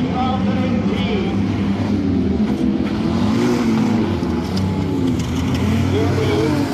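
Race cars on the final lap of a circuit, a constant loud engine roar with shifting pitch as they drive past, under a voice talking throughout.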